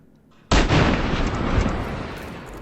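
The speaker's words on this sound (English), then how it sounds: "we've just got to line up our shots so that we can get them both with one bullet" A single loud sniper rifle shot from the video game Hitman 2 at Whittleton Creek, a sharp blast followed by a long rumbling tail that fades slowly, with no voices.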